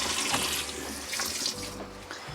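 Dishes are washed under a running kitchen tap, with a steady rush of water and faint clinks of plates close by.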